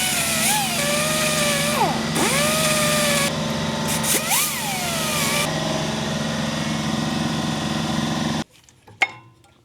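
A grinder takes rust off new brake pads during an Acura B17 service, running as a loud, close whine whose pitch dips and recovers under load for about eight seconds before cutting off abruptly.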